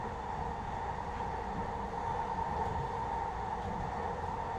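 A train rolls along its tracks with a steady, close rumble and hum from inside the car, continuous and even throughout, with no speech.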